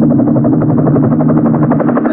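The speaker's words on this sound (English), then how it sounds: "I saw it was a helicopter." A helicopter's rotor beats in a loud, steady rhythmic chop with a deep engine drone underneath, close and continuous throughout with no talk.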